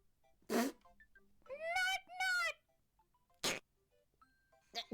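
Short comic fart sounds from a played clip: a brief burst, then two longer wavering tonal blasts, followed by another short burst and a faint final one, quiet and close.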